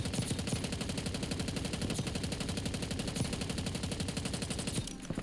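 Sustained rapid automatic gunfire in Call of Duty Warzone, dense and loud bursts running continuously for about five seconds before a brief drop near the end.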